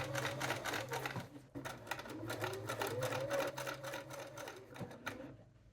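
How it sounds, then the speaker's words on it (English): A sewing machine stitches slowly down the waistband seam of jeans trousers, a near, rapid mechanical clatter in short bursts with brief pauses, fading out at the end. "we're just going to sew straight down into the seam that we just sewed when we put the waistband on"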